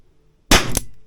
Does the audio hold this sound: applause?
no